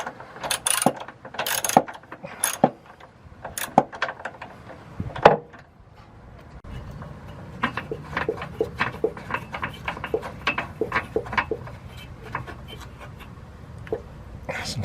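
A hand ratchet unscrewing a bolt during a trailer hitch install on a Sprinter van with a step bumper, a long run of rapid fine clicking after some louder clanks, heard close with breathing.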